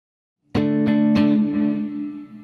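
An electric guitar with reverb and delay strikes three quick chords that sustain and trail off in a lingering, echoing wash, alone without speech.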